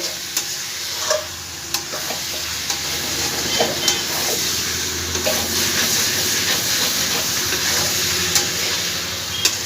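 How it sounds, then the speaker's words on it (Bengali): Jackfruit and spices being stirred in a hot frying pan for a jackfruit curry, with a steady sizzle and repeated scraping strokes of the spoon, close and fairly loud, no talking. "ভালো করে একটু নাড়ানাড়ি করে দেবো মশলার সঙ্গে"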